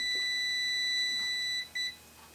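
A multimeter set to continuity gives a steady, high electronic beep while probing a broken thermocouple from a pyrometer, the tone holding for a couple of seconds before cutting out briefly and sounding again.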